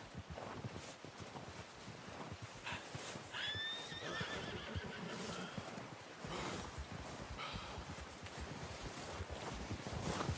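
A horse whinnies amid steady clip-clopping hooves in Red Dead Redemption 2, with a washing, wave-like background; everything sounds game-like and continuous.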